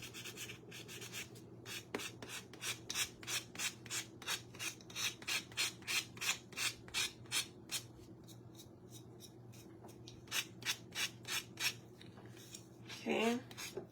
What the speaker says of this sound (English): we're just gonna sand down those edges a bit.